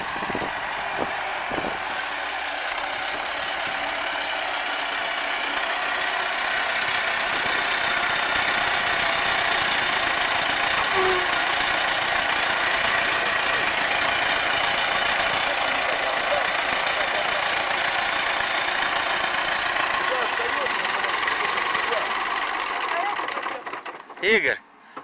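An MTZ-80 tractor's diesel engine idles with a steady, low, knocking drone for a long stretch, with voices heard at times over it, then abruptly cuts out.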